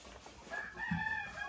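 A hen in a henhouse cackles after laying an egg, a short, moderately clear rising call heard alone over faint background noise.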